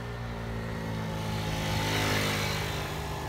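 A Jonway Solana 49cc four-stroke scooter engine running at a steady, quiet idle-to-throttle drone, a continuous buzzing hum that swells slightly midway, with no talking over it.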